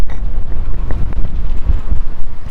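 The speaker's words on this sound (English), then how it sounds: "Still sounds pretty windy on the old outside microphone." Heavy wind buffeting an outdoor microphone at the Port of Southampton, a loud continuous low rumble with gusty thumps throughout.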